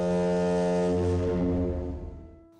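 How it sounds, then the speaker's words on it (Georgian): A ship's deep foghorn-like signal booms in one sustained, loud blast that holds steady before fading out over the last second. "უკვე ისმოდა გემის ყრუ სიგნალი"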